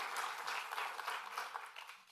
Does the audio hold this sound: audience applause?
yes